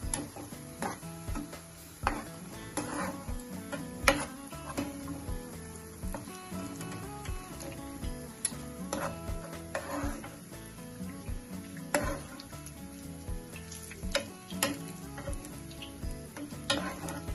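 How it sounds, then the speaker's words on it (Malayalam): Onions frying in oil for mutton biryani give a steady, close sizzle with crackles, occasional scrapes and clinks of a ladle against the pan; no talking. "നമ്മുടെ ഉള്ളി വറുത്തെടുക്കാൻ അത് ഏകദേശം മൂത്ത് നമുക്കിത് മൊത്തത്തിൽ കോരിയെടുക്കാം"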